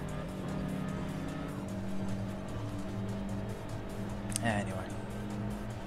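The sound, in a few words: race car engine in the video game Import Tuner Challenge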